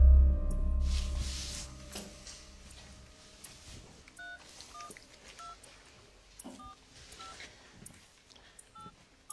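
Telephone keypad dialing, a rapid series of short DTMF tone beeps pressed one after another in an irregular rhythm, fairly clear against a quiet room after an opening thud.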